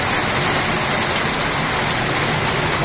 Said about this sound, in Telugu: అత్యద్భుతమైనటువంటి వర్షం.